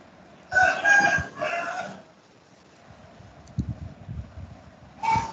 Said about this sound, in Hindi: ये मुर्गा भी पढ़ने आया हुआ है क्या?